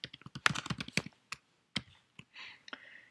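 Quick keystrokes clatter on a computer keyboard in an uneven burst, then slow to a few scattered taps in a quiet room.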